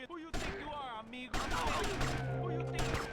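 Rapid video game gunfire rattles in bursts during a GTA Vice City shootout, loud and dense over game effects, with a voice speaking over parts of it.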